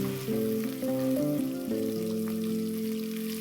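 Masala spices sizzle with a soft, steady hiss as they fry in a pan for a spicy chicken rassa curry, heard faintly beneath sustained background music.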